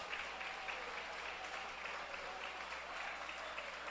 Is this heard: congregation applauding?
yes